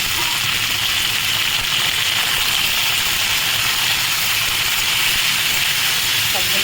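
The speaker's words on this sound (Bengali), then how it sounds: "সবগুলো একটু ভেজে নেব।" Banana stem, green chillies and other vegetables fry in hot oil, giving a steady, dense sizzling hiss that runs unbroken and fairly loud throughout.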